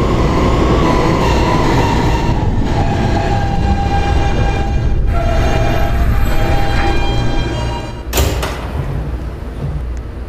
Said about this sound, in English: This is a Catlin bound K train.